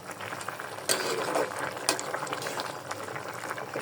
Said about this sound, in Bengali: ধনিয়া পাতা দিয়ে ওখানটাতে তরকারি হচ্ছে